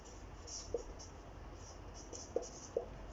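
A marker drawn across a classroom board during a maths lesson on linear functions, heard as a few short, faint squeaky strokes over a quiet room hiss.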